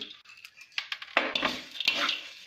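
Black chickpeas being stirred as they roast in a pan: short, close, dry rattling and scraping strokes that rise in bursts, with no talking.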